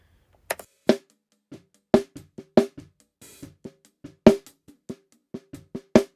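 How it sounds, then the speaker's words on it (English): Sharp, crisp snare drum hits in an irregular pattern, some strong and some lighter ghost strokes, each with a short rattling tail, close and alone, heard through top and bottom mics together. "Together, the snare top and the snare bottom sound like this."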